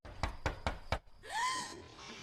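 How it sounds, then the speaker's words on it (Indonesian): Four firm, evenly spaced knocks on a door in an Indonesian horror film, followed by a rising whooshing sting and ambient rumble. "Pak Sarip ngetok ke pintu"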